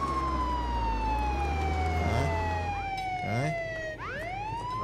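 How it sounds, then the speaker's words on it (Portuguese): A police car siren in the video game Contraband Police wails steadily and loud, its sweeping tones gliding downward and then rising again, with other siren wails layered over a constant engine rumble. "Vou desligar a sirene"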